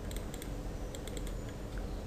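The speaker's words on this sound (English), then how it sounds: "I'm typing my name" Quick bursts of keystrokes on a computer keyboard, light clicks in uneven runs over a low steady background hum, close by and with no one talking.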